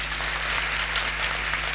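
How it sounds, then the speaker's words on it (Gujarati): Audience at a motivational talk clapping, a dense, steady roar of many hands close by, even in loudness throughout the short stretch with no speech over it. "એમના માટે એક જોરદાર તાળી પાડ દો"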